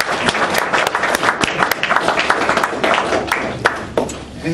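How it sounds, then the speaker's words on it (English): A crowd applauds steadily throughout, dense clapping with occasional sharper individual claps standing out, fairly close and continuous. "let's give them a round of applause."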